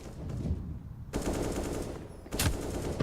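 Rapid AK rifle fire from Counter-Strike comes in close, loud automatic bursts, with a sharp break before a final volley.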